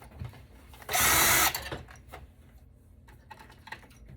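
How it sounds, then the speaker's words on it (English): Metal parts rattling and a loud burst of a powered screwdriver whirring briefly while parts of a Yamaha stereo amplifier are unscrewed, followed by scattered clicks and clanks of hardware being handled nearby. "Okay, so I've now extended my screwdriver."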